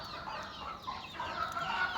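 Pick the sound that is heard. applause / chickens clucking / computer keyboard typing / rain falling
chickens clucking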